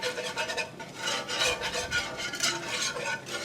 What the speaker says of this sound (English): just going to whisk this around and stir to cook that flour out while I'm mixing it with the butter